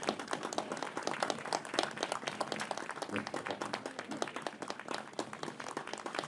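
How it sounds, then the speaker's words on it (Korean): Audience applause at the opening ceremony of a memorial hall and living museum: steady, dense clapping from a crowd, moderately distant, continuing for several seconds without talk. "큰 박수 환영합니다"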